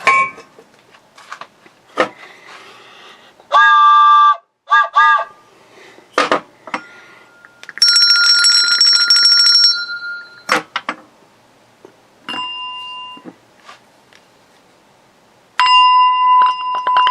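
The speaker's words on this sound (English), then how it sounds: "I'll ring the cowbell just like I mean it." A cowbell is struck in a beatbox routine, with several bright metallic rings in short bursts, loud and close. The strikes sit between percussive mouth sounds and other sharp hits.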